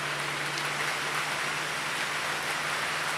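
Rain falling steadily, a constant even hiss of drops on surfaces with a low hum beneath, no talk.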